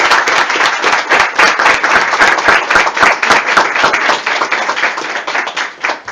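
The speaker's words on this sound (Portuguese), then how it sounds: "Vamos dar uma salva de palmas para Jesus." A church congregation claps and applauds at a Catholic preaching event, a loud dense burst of many hands clapping continuously and fairly close throughout.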